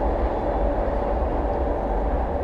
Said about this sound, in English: you can probably hear the railroad.